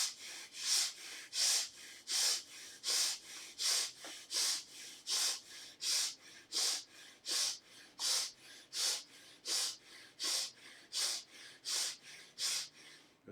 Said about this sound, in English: now the time has come to start breathing from the rib cage, expansion and contraction of the ribs